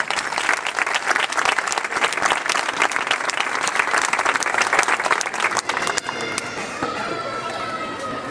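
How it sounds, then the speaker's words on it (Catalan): Sustained audience applause fills a Compromís campaign rally in Santa Pola: dense, close clapping from a large crowd that carries on steadily and thins slightly toward the end. "M'agradaria, jo personalment, aplaudir a tota aquesta gent que ha volgut implicar-se en Compromís"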